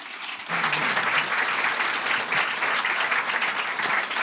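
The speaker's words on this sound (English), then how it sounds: "big applause" A gallery audience at an art venue in Bergen gives a steady, fairly loud round of applause for an artist's talk, continuous clapping that swells in after a brief quieter start and carries on throughout.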